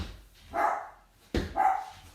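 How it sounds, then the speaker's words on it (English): A dog indoors gives two separate barks about a second apart, close and moderately loud, with no other sound between them. "The dog's kind of distracting me there."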